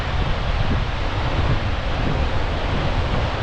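Gullfoss waterfall in Iceland, a dense, unbroken roar of heavy falling water mixed with wind buffeting, loud and constant throughout with no voices.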